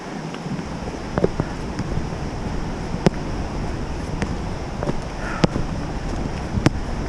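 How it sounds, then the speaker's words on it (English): A loud, high, energetic river rushes near Franklin Falls in autumn, giving a constant broadband roar beside a highway, broken now and then by sharp ticks and clicks close to the microphone. "because the river is so loud and high and energetic right now"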